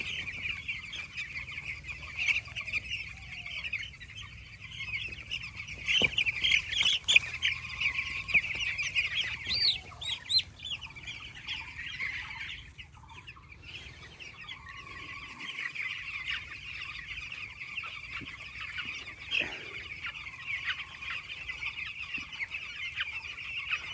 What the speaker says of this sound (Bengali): এই যে 9 দিনের পাখি তোমাদের দেখাচ্ছি, 9 দিনের পাখি